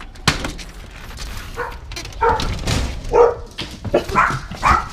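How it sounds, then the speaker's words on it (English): Several dogs bark and yip excitedly at close range, irregular bursts overlapping with some whimpering, no one talking. "You want to see the dogs go nuts?"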